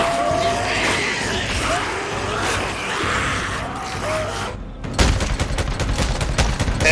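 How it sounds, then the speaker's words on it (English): A light machine gun fires in the video game Days Gone against hordes of freakers. Rapid, loud bursts of gunfire dominate the second half over ongoing engine and action noise. "LMG doing the work"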